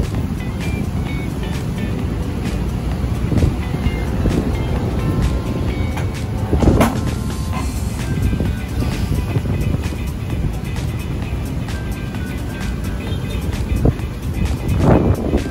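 Strong typhoon wind from Typhoon Papyan roars at Manila Bay, a loud continuous buffeting rush with gusts and rattling bursts, dominating the scene with little else audible.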